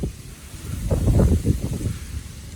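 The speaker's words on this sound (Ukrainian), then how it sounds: "які пориви вітру." Strong gusts of wind blow across a pond edge lined with reeds in winter, a loud low rumbling buffet on the microphone that swells and fades, with no speech.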